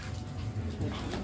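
A dog whimpers close by in a home in Quezon City, Manila, giving short, soft, whiny cries with voices faintly in the background.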